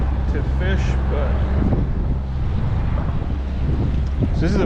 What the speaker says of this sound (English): so this is a very strong west wind